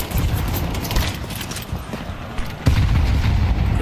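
Counter-Strike 2 match action with grenade blasts and gunfire: a dense run of muffled shots and thumps, ending in a sudden heavy boom that lingers loudly.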